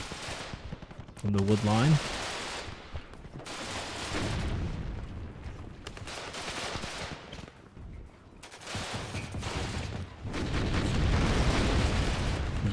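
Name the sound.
gunfire on a Russian anti-tank team in video game WARNO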